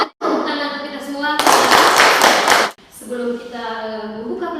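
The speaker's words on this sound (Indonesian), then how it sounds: "Tepuk tangan untuk kita semua." Children in a primary school classroom break into a short burst of dense clapping that lasts about a second and a half, framed by a teacher's voice and children's speech before and after.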